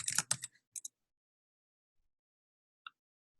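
A quick run of computer keyboard keystrokes while a project title is typed, a close cluster of clicks at first, then a couple of isolated taps separated by silence.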